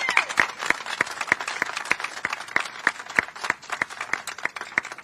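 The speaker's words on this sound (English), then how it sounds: "I'd like to give her another round of applause." An audience at a dedication ceremony for the return of Bruce's Beach applauds, a sustained round of many hands clapping steadily for several seconds, with no speech over it.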